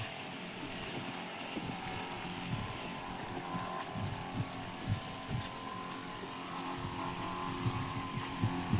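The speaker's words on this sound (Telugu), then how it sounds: "చూడండి ఫ్రెండ్స్, మందు ఈ విధంగా స్ప్రే చేస్తున్నాం." A motorized pesticide sprayer works in a green sorghum field on a windy day, giving a continuous droning engine hum with rough wind buffeting throughout, fairly close and steady for the whole stretch.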